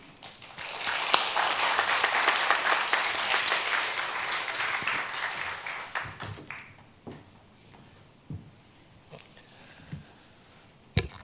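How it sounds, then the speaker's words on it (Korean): Congregation applauding at a church retirement ceremony, a dense burst of many clapping hands that holds strongly for about six seconds, then thins into a few scattered, separate claps. "축하하는 박수를 쳐주셨으면 고맙겠습니다."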